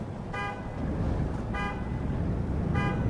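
In a trucking video game, a car alarm or horn sounds three short, evenly spaced tonal toots over a continuous low rumble of engine and road noise.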